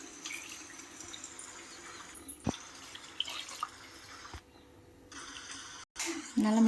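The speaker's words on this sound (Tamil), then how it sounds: "தண்ணியை சேர்த்துக்கலாம்." Water poured into rice for Mughlai chicken biryani, a soft steady splashing and trickling in a pot with a few clinks, fairly quiet, ending with a brief louder burst of voice.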